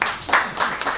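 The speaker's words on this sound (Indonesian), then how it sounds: "Anda boleh tepuk tangan di situ" A church congregation applauding during a Saturday worship service, a steady wash of many hands clapping for about a second, fairly loud and close, with some mixed crowd noise.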